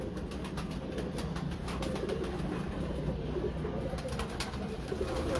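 Pigeons in a loft, low murmuring coos blending into a constant busy background with scattered clicks and wing taps, steady and fairly close.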